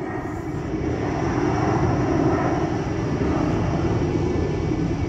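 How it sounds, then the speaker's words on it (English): A small KLM airliner departing Manchester Airport for Amsterdam gives a loud, continuous jet engine roar that swells slightly midway and stays strong throughout, with no talking. "behind me is a KLM little dinky thing off to Amsterdam"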